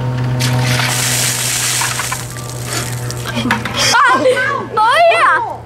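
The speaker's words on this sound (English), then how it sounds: "I'm ready. Pour the ice on me." Ice water from an ice bucket challenge gushes and splashes over a person outdoors in a brief loud rush, followed by excited shouting and cheering voices.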